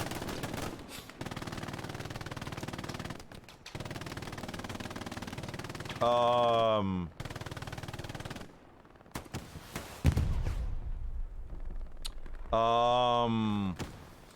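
Machine gun fire rattles in a Hell Let Loose tournament match, long sustained bursts broken by short gaps, with a commentator talking over the battle.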